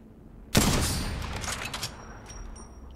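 Gunfire in the Apex Legends video game during a Halloween Trios match on Kings Canyon: a loud burst of rapid shots starts abruptly, then rattles on as a dense, slowly fading volley with no speech.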